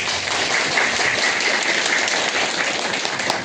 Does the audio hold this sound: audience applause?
yes